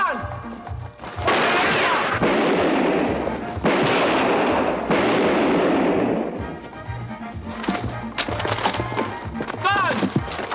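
A police shootout sounds as a few loud, sharp gunshot bursts that crack close by. Shouting voices come between and after the shots.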